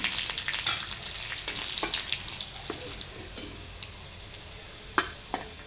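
Curry leaves and red chutney crackle and fry in hot oil in a pan, with a loud close sizzle that fades while scattered pops and stirring clinks continue. No voices.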